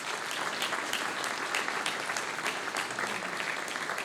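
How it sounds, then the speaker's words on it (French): Audience applause at a town hall New Year's address by the municipality of Rots, an even patter of many hands clapping, moderately distant and steady throughout with no talking. "je vous remercierai d'applaudir les gens qui sont avec moi"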